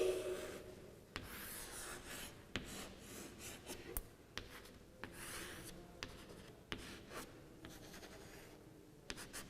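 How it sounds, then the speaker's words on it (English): Marker or chalk drawing a fish with scales on a classroom board, a steady scratchy rubbing of strokes with short taps and pauses between lines, close and moderately quiet with no talk. "See, I am drawing one"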